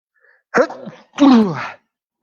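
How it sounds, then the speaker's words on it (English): A single close, loud allergy sneeze with a sharp intake of breath before the burst, then silence. "Sneeze. It's not virus. It's allergy, this one."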